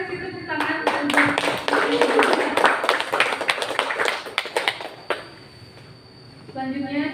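Applause from a crowd, a dense patter of clapping lasting several seconds, then fading out and briefly returning near the end.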